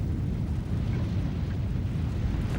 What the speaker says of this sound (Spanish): Así sonaría el magma avanzando hacia la superficie.